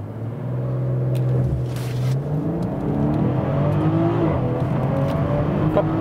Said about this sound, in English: And here we go. We can accelerate to 45 mph.